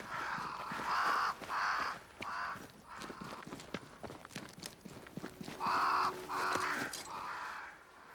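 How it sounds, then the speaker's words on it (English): Crows cawing in the Banishers: Ghosts of New Eden video game, with repeated harsh calls in bursts and a brief pause before more caws, plus scattered clicks and knocks between them. "crows. They flock to that great tree up there."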